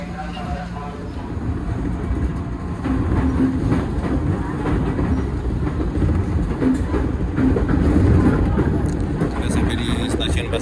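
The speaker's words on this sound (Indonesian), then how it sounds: "Ini keretanya udah mau masuk" KA Kertajaya passenger train pulling in near Pasar Senen station, a steady loud rumble with faint rail clatter throughout, heard from close by with people talking over it.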